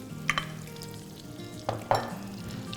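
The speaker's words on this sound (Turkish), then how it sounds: "Tereyağımı eritiyorum burada. Ardından içerisine kuru soğanlarımı ekliyorum" Onions sauté in melted butter in a pan, a low, steady sizzle punctuated by a few sharp utensil clicks and scrapes, close and fairly quiet with no talking.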